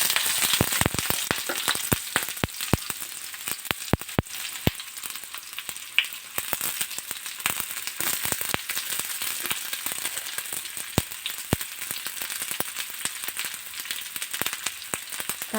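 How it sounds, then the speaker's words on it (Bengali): Chopped onions frying in hot oil for an eggplant curry, a dense steady sizzle with sharp crackling pops throughout, close and loud with no talking. "এবার তেলটা মোটামুটি গরম হয়ে গেছে। প্রথমে আমি পেঁয়াজ কুচোনো"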